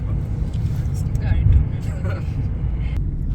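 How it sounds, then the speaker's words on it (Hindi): A car being driven, heard from inside: a constant low engine and road rumble that swells briefly midway, with talking layered over it. "गाड़ी चला रहा हूँ।"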